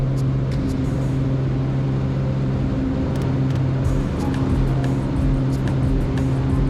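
Light airplane engine running at full power during soft-field practice in ground effect, a steady loud drone with strong low harmonics, continuous and close throughout with faint wind noise.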